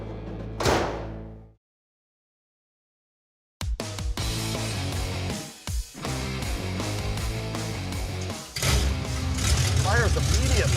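A V8 in a Plymouth Duster cranks and fires at once, then settles into a loud, rumbling idle close by, with a short silence before the start and a revving surge near the end.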